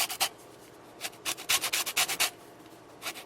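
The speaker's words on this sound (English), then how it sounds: "The last thing I want to add is just a little grating of orange zest." Orange zest being grated by hand over a kitchen grater, a series of short, rapid rasping scrapes in bursts, close and crisp, with no voices.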